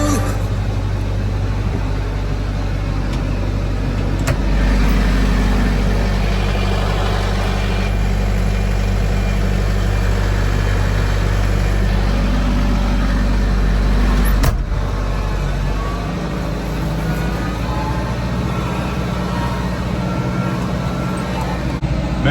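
A tractor engine runs steadily throughout, a constant low rumble with a slight surge and dip midway, heard close up from the cab without talk.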